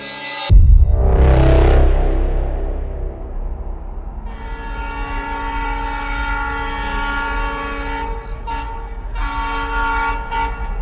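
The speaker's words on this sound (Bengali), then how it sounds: "শুক্রবার সকাল 8টার ট্রেন, বলে সুজয়।" A loud, close train horn blasts once, then a long sustained horn tone rings over rumbling rail noise, used as a sound effect in a Bengali horror audio story.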